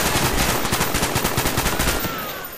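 Rapid automatic gunfire in Call of Duty: Black Ops during a jungle Victor Charlie mission, a dense rattling burst of close shots for about two seconds before it cuts off and fades.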